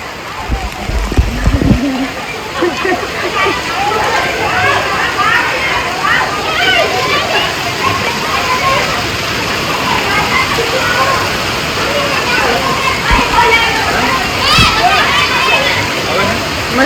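Heavy monsoon rain pours down steadily in a street in Rajkot as a continuous, loud, dense wash of noise. A few brief low thuds come near the start.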